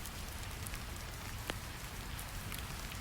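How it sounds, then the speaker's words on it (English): Steady rain falls on surfaces around a quiet mountain monastery, a soft, even hiss of drops with occasional sharper drips standing out, gentle and continuous. "Let the rain sounds bring deeper rest."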